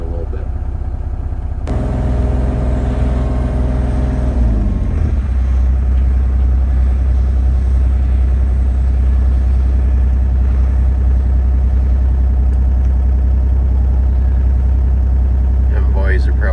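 A mini excavator digs a trench for an electric line. Its engine drones loud and steady at close range, with a brief shift in load early on before settling into a constant low rumble.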